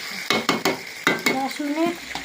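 Chicken being stir-fried with spices in a pan, loud close scraping strokes of a spatula in a quick rhythm over a crackling sizzle.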